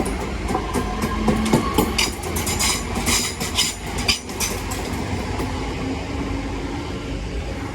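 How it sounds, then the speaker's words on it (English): A Class 323 West Midlands Railway electric train pulls away from a station platform, a steady rumbling roar with rhythmic clickety-clack of wheels over rail joints and brief squeals, heard nearby without talk. "there goes 323212 on the 11:56 West Midlands Railway Service to Lichfield Trent Valley via Birmingham New Street from Bromsgrove"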